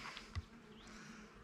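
A faint, steady buzz of honey bees hums close by at a hive with a quiet background hiss, no voices.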